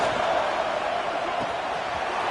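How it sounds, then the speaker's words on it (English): A fired-up football stadium crowd early in a game roars as a steady, dense wash of noise that fills the whole stretch without letting up. "this crowd is fired up. Listen to this noise here"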